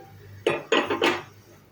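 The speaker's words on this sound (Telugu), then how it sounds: "గ్యాస్ ఆన్ చేసుకొని పోపు గరిటె పెట్టుకొని" A metal tempering ladle clanks onto a gas stove burner in three quick, bright, ringing knocks, close and loud against a quiet kitchen.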